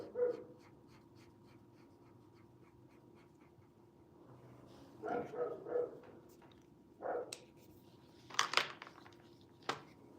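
A talkative pet dog indoors making small vocal sounds: a few soft whimpers and muffled barks scattered over a quiet background, with a sharper yelp near the end, fairly close but not loud.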